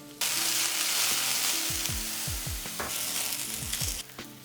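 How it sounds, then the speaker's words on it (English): Mushrooms sizzle steadily in olive oil in a frying pan, a dense continuous crackle with a few soft knocks and scrapes of stirring, close and alone. "So now we're frying them for about 5 to 7 minutes."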